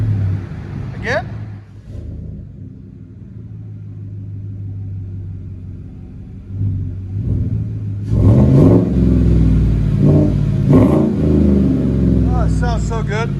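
Deep, close exhaust rumble from a 2015 Chevy Silverado LT 5.3L V8 with Z71 package and Flowmaster Flow FX dual exhaust, idling low before a couple of loud revs surge and drop, with a brief voice near the start.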